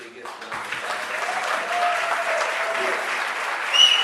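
Steady audience applause from a live crowd at an event, many hands clapping in a dense continuous wash that holds its level for the whole stretch with no voice on top.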